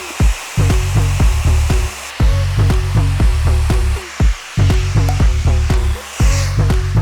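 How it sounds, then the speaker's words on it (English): A sit-down hair dryer blows with a steady whooshing hum, interrupted by repeated short knocking and clicking sounds in an uneven rhythm close by. "The sit down hair dryer can only do but so much."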